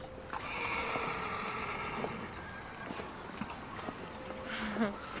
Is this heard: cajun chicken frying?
no